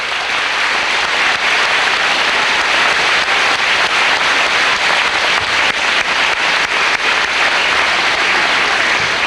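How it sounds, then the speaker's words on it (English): Sustained, loud applause from a large crowd at a high school graduation ceremony, dense steady clapping with no talk, continuing evenly throughout. "Let's give them all a round of applause."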